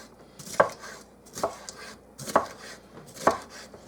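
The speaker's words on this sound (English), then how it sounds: "Just chop it." Four sharp knife chops on a cutting board through salad vegetables such as pepper and mushrooms, evenly spaced and close, with no talking.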